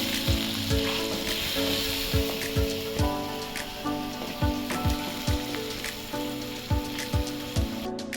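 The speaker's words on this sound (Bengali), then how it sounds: "তারপর এটাকে ভালোভাবে কষিয়ে নেব আঁচটা একদম কম করে দেবো" Masala frying over a low flame for a vegetarian mushroom curry, a dense bubbling sizzle with rhythmic spatula scrapes against the pan about once a second, close and loud.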